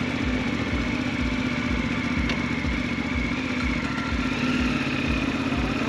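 A Suzuki V-Strom 800DE motorcycle demo bike with a parallel twin engine runs steadily, giving a continuous mid-pitched engine note with rhythmic pulsing. It sounds close and stays at an even level throughout, with no talking.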